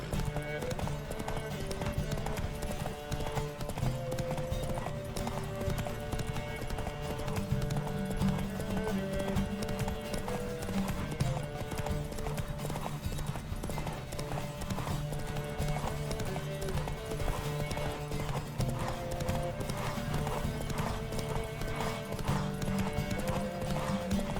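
Steady rhythmic hoofbeats of a galloping horse in the video game The Witcher III: Wild Hunt run throughout over continuous music and game sound, dense and unbroken.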